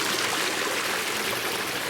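A small garden pond waterfall, built where a pool used to be, trickles over rocks in a steady, close, continuous rush of splashing water with no voices.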